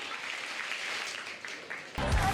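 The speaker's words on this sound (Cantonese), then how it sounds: "所以我哋繼續俾多啲掌聲去支持佢哋" A live audience applauds a women's football team, with crowd clapping at an event. It rises into a louder burst near the end, and a voice is faintly mixed in.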